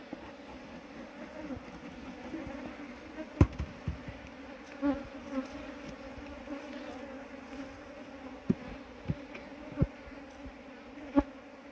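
Honey bees buzzing around a hive being prepared for spring, a steady low drone with occasional sharper passes of individual bees close by.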